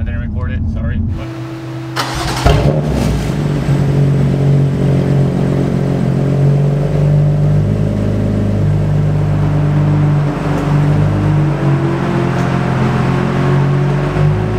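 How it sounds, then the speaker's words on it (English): A 2018 BMW M3 twin-turbo engine and exhaust drone steadily and loudly at close range, with a brief clunk near the start before the engine note settles into a continuous, even hum. "So now actually the car sounds like a single turbo instead of a twin turbo one."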